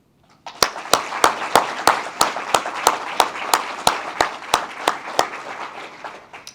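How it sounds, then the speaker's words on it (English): Audience at an annual meeting and leadership summit claps to welcome guests, with about fifteen sharp, evenly spaced claps standing out over a steady wash of applause that continues for several seconds. "Please join me in extending a warm round of applause to our guests."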